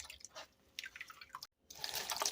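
Jamaican June plum juice drips and trickles through a strainer in close, uneven patters, broken by a brief silence before a denser burst of liquid splashing.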